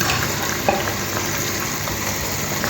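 Steady bubbling and crackling of pumpkin payasam at a rolling boil in a pot, a dense continuous hiss close by with small pops scattered throughout.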